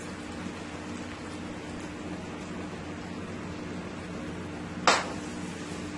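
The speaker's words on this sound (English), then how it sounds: "This is frying up so nicely." Pieces of lamb fry in a pot for cook up rice, giving a steady, rain-like sizzle at moderate volume with one brief sharp crackle near the end.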